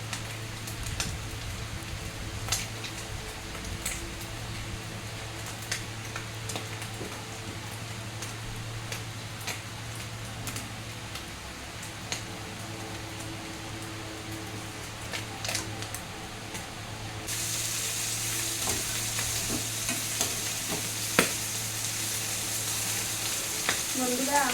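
Pabda fish curry simmering and sizzling in a pan while being stirred, a continuous bubbling fry with scattered clicks of the utensil, growing louder and brighter toward the end.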